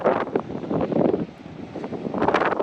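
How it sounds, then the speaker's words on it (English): Strong gusting wind buffets the microphone outdoors in a rough, roaring rush that swells and dips, loud and close throughout. "I don't know if you're going to be able to hear anything over the wind because it is hell of a windy."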